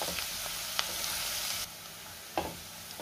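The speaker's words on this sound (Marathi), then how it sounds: "आता मी हा लसूण साधारण 1 ते 2 मिनटं चांगला परतून घेणार आहे।" Garlic sautéing over low-to-medium heat in a pan for a spicy Maharashtrian garlic chutney, giving a steady soft sizzle with a few light stirring clicks and scrapes.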